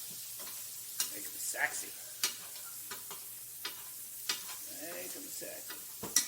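Swordfish basted in a pan of sizzling butter, grapeseed oil and thyme sprigs, a steady close hiss with spoon clinks and splattering pops at intervals, and a person speaking briefly over it.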